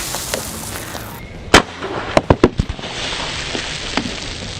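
A CO2 BB air gun fires at very close range through two Coke cans, giving one sharp crack followed by a quick cluster of loud snapping pops, close and clear over a low background hiss.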